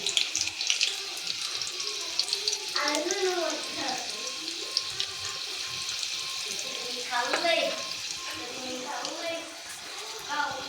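Garlic and asafoetida sizzle in oil over a low gas flame while a jackfruit vegetable dish is prepared, giving a steady close frying hiss with faint clinks and background kitchen noise throughout.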